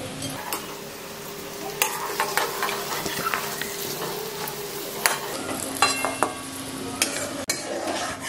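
Paneer fries in hot oil in a pan with a steady sizzle, broken by clinks and scrapes of a utensil stirring against the pan.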